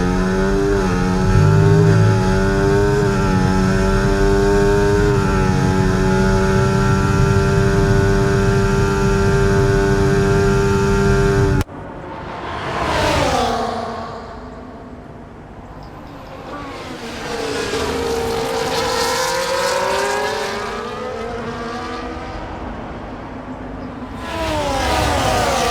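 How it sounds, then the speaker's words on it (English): A McLaren Formula 1 car's onboard engine in the F1 24 video game at the Japanese Grand Prix: a loud, steady high-revving whine that drops into rising and falling revs with gear changes between corners. "we are watching the race up ahead on board with Lando Norris and the TCAM of the McLaren"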